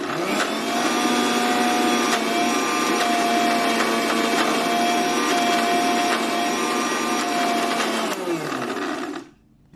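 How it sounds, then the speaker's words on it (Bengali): A kitchen blender whirs loudly and steadily while mixing homemade restaurant-style mayonnaise, running continuously for about eight seconds before it stops. "এটা একটু সময় ধরে অল্প অল্প করে ব্লেন্ড করতে হবে, তাহলে থিকনেসটা সুন্দর হয়।"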